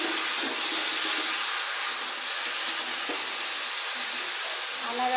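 Pineapple pieces hit hot oil tempered with Bengali five-spice, giving a soft continuous hiss and sputter of frying, close and moderately quiet, with a few faint clinks.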